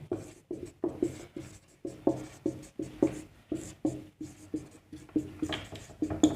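A teacher writes numbers on a board during a maths lesson on divisibility rules, producing quick rhythmic scratching and tapping strokes in irregular bursts, close and clear with no talk.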